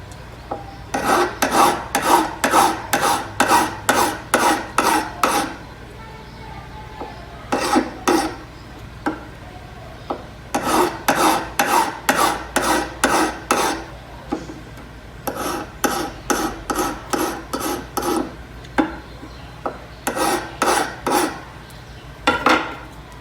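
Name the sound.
filing the tips of pliers even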